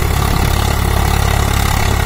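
A Swaraj 744 XT tractor engine idles with a loud, steady low rumble and constant throb, close by and running without pause.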